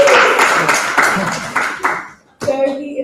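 Audience clapping at the NOL Malawi launch event, a short burst of applause that fades out, then a voice speaks after a brief pause.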